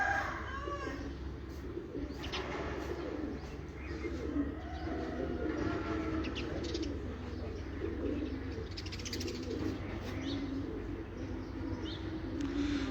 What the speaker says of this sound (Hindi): साथ के साथ कबूतर पूरे मेरे मोबाइल में क्लियर है